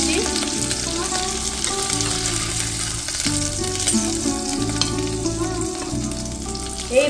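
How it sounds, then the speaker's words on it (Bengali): Prawns fry in hot mustard oil in a pan with a steady, even sizzle and crackle, while faint background music plays underneath. "এইভাবে আমি সব মাছগুলো ভেজে নেব"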